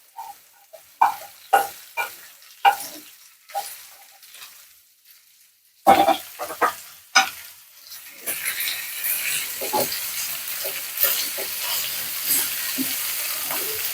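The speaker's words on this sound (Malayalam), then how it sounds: "ചെറിയ ഉള്ളിയും സവാളയും ഓയിലും എല്ലാം കൂടെ നല്ലതായിട്ടൊന്ന് ഇളക്കി" Shallots and onion frying in oil for a Kerala-style ulli thoran are stirred in a pan: a series of sharp scraping strokes at first, then a steady loud sizzle with irregular stirring clatter, no voices.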